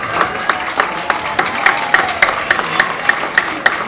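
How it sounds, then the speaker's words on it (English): Audience members clap at the close of a panel discussion on political financing in Ghana. The claps are sparse and fairly evenly paced, with distinct sharp hits at moderate volume. "Let's give a round of applause."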